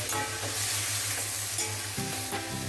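Amaranth stems and chickpeas being stirred in a hot pan, a dense close sizzle with repeated scraping strokes of a spatula against the metal.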